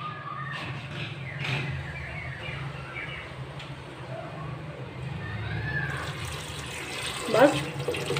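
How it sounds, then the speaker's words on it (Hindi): Steady water runs and splashes for several seconds as it is poured into a cooking pot with oil for black chickpea curry, with faint background noise. "अब इसमें जाएगा पानी"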